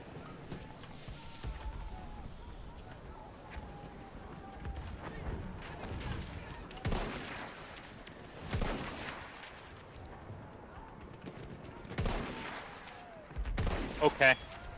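Gunfire in the Battlefield 1 multiplayer video game, scattered shots and bursts in a busy battle mix, with players talking over it.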